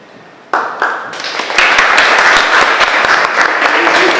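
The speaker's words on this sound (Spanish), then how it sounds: "los aplausos fueron para él" An audience at an evening talk on funerary anthropology bursts into applause, starting abruptly and swelling into sustained, dense clapping from a sizeable crowd in a hall.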